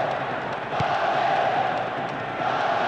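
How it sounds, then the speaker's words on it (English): A football stadium crowd at a Portugal versus Brazil match roars in a sustained, dense wave of cheering, loud and distant-sounding, without a break for the whole few seconds. "you can hear the relief from the crowd"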